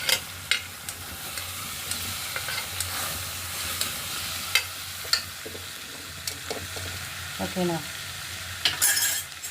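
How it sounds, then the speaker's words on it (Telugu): Curry ingredients frying in a pan are stirred with a spatula, producing a steady low sizzle punctuated by sharp, irregular scraping knocks, with a brief spoken word partway through. "అన్నీ వేసాక ఒకసారి తిప్పుకున్నాము"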